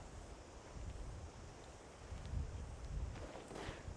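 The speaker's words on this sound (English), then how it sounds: "It's a little breezy." Light wind blows steadily outdoors on an open disc golf course, a soft continuous low rumble with gentle gusts and no talking.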